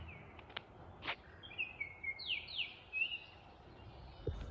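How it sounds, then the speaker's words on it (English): An oriole sings a few faint, slurred whistled phrases from a distance outdoors near a park, over a steady low background hum. "hopefully you can hear that oriole"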